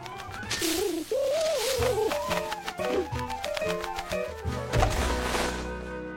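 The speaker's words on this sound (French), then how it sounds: "Ah, mais on dirait Boussole, le pigeon voyageur désorienté." A homing pigeon coos repeatedly in soft, throaty bursts, close by, with a few light knocks and flutters in between.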